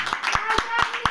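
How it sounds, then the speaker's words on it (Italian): An audience at a live Italian evening show claps in a quick, rhythmic beat of about four sharp hand strikes while a voice carries on over them. "fatemi sentire con un applauso"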